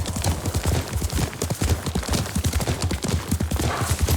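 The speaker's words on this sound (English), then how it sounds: "Yuriko's horse. She can't be far." Horse galloping in the video game Ghost of Tsushima, rapid hoofbeats drumming in a fast continuous rhythm, close and loud throughout.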